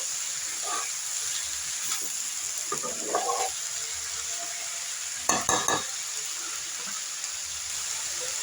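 Bitter gourd, potato and onion fry in oil in a pan with a constant close sizzle, broken by a few brief bursts of stirring and scraping, and no one speaks.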